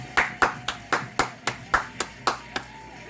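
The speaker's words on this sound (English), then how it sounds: "Let's go ahead and clap it up here, Bo." Steady, evenly paced hand claps ring out close and crisp, about eleven in a row with no one speaking, opening a casual basement music show.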